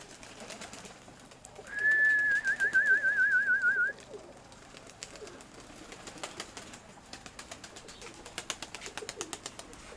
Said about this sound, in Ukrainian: От молоді голубята, вони якісь такі більш скильні.